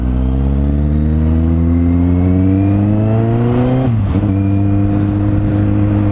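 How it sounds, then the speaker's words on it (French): A Kawasaki motorcycle engine runs loud and steady on the road, its pitch climbing smoothly before a brief dip around a gear change, then settling into a constant drone. "je vais chez Kawasaki pour analyser le bruit bizarre que j'ai sur le moteur"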